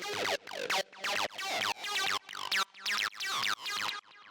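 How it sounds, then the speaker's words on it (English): Roland 303-style acid bassline in G for acid techno: a squelchy, resonant synth riff of short staccato notes with sweeping filter zaps, repeating rhythmically with gaps between phrases, played alone. "So the next thing we have here is the 303"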